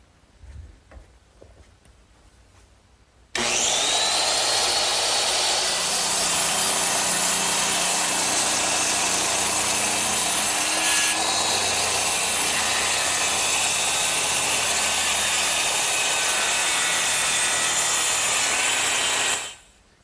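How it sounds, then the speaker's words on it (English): A circular saw cuts wooden gable pieces clamped in a bench vise, starting after a few seconds of quiet and then whining loudly and steadily for about sixteen seconds before stopping, with no talking. "I'm ready to cut them with my circular saw"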